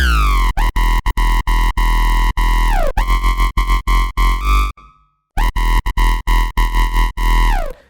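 A Serum 2 synth bass stacked with a distortion layer in a funky electronic drop, loud and buzzy with pitch slides and rhythmic choppy cuts, briefly dropping to silence before resuming.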